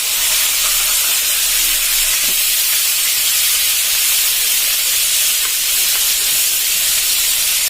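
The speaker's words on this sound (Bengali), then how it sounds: "এবার মাছটা ভাজা হচ্ছে" Fish frying in a pan, a loud, steady, bright hiss of spitting oil that continues unbroken and close throughout.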